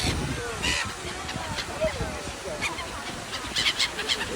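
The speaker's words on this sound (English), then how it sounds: "Gulls here." Seagulls calling in a flock while being fed at a tourist spot in Kunming, Yunnan, with scattered short squawks rising over outdoor background noise.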